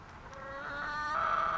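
Chickens squawk in a chicken coop, a continuous rising, harmonic cackle close by that grows louder toward the end, with no speech.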